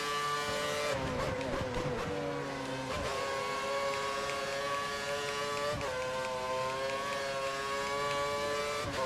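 A Formula 1 car's engine in the F1 2013 racing game at Monza screams at sustained high revs, a loud, steady whine with brief gear-shift dips, alone without talk.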